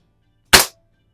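A single sharp air rifle shot rings out in a garage toward a splatter burst target, one brief crack with a quick fading tail amid otherwise quiet surroundings.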